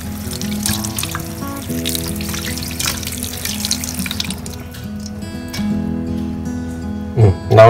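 Tap water runs continuously while cleaned tamban bait fish are rinsed in a sink, a loud close splashing stream that shifts as hands move the fish, with a sharper splash near the end.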